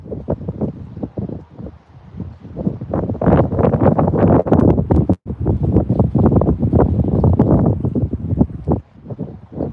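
Strong wind buffets the microphone at Copano Bay in Bayside, Texas, while fishing: loud, continuous low rumbling gusts with rustling, swelling and easing over several seconds, with one brief dropout.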